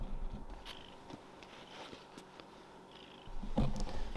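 A house cat purrs steadily and close by, a low continuous rumble lasting throughout with a louder swell near the end.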